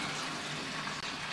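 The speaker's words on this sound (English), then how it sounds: "So I just fill the bowl up with water" Water runs from a tap into a plastic Tupperware bowl to soak a whetstone, a steady, close, continuous rushing gush with no talking.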